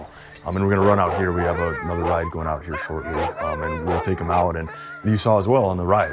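Sled dogs in a snowy yard bark and yip excitedly, eager to run the trail, their calls mixed under someone talking steadily close by.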